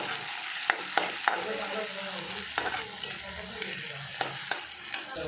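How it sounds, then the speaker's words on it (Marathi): Chopped tomatoes and browned onion fry in a pan while a utensil stirs them, giving a soft, steady sizzle broken by several sharp scraping clicks, close and fairly quiet, with no talking. "हे बघा आपण टमॅटो टाकतो, हलवून घ्यायचं"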